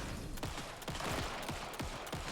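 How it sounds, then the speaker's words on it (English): Rapid bursts of gunfire emptying a magazine in the survival horror game Alan Wake 2, a steady string of sharp shots repeating about every half second over dense, noisy game ambience. "I lost all my bullets. Just mag dumping him."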